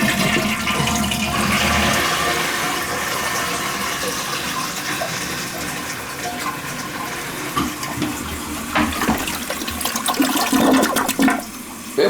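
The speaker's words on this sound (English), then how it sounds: "It flushed." An old wall-hung toilet flushes loudly and steadily, a long rushing, gurgling surge of water that continues for over ten seconds with bubbling splashes toward the end, no voices.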